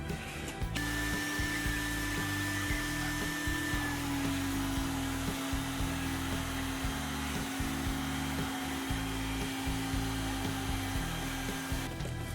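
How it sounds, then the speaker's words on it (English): Shop vacuum steadily whining as it sucks rust out of engine cylinders during a marine riser and manifold repair, a continuous close drone with a sustained tonal hum and no talking. "We're going to suck out all of the cylinders."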